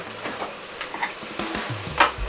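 Fish being stirred in a cooking pot, soft scraping and shuffling under a faint low sizzle, with small clinks and a sharper scrape near the end, close and quiet.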